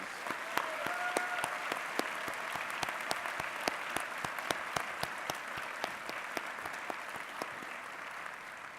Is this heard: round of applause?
yes